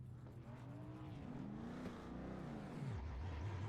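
Legends race cars circle Talladega in a racing video game, their engines droning steadily with rising and falling pitch sweeps as cars pass and shift, a continuous moderate roar.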